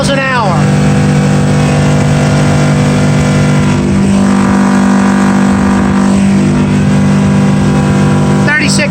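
A 2003 Scout 235 center console sportfish boat runs at speed on a 150 outboard at about 5,800 RPM. The engine holds a loud, steady drone with wind and hull noise, and someone talks over it throughout.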